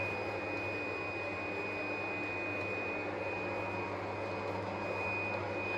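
A PFI Blade B2+ cutting table creases and cuts card with a constant mechanical whir and a faint high whine, steady and moderately quiet throughout, with no one talking.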